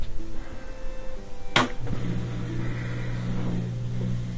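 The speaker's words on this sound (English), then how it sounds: "press start, and that'll do a cycle. We'll see if it can spin now." An LG washing machine starting a high-speed spin cycle after an LE error repair: a sharp click, then a rising motor whine and drum rumble that builds steadily.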